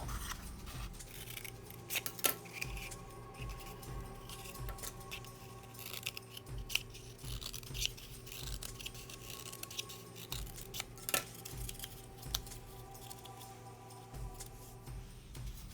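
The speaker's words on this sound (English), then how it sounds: "Cut from the bottom of the tube up until the line." Scissors snip repeatedly through a cardboard tube to cut spider legs for a craft print, close crisp cuts in irregular bursts with faint rubbing between them and no talking.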